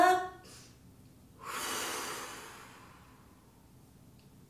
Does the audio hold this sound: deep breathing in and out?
yes